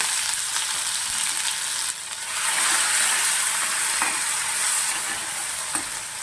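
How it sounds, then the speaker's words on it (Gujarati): Ginger-chili paste sizzles and crackles in hot oil while it is stirred in a pan, with occasional scraping clicks. "હવે આપણે આદુ મરચાંની પેસ્ટ એડ કરી દઈશું"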